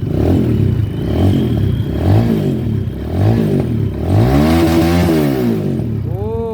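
A Rusi Sigma 250 motorcycle engine with an untuned carburetor revs repeatedly and hits its limiter. The pitch rises and falls in close, loud, rhythmic swells, with metallic clatter under the engine note.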